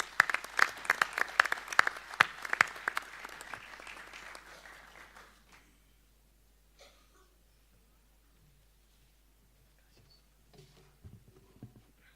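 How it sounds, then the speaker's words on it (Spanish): Applause from a group at a governors and local leaders dialogue forum swells with sharp, close claps, then fades out around the middle, leaving near silence with a few faint scattered noises. "Un aplauso, por favor."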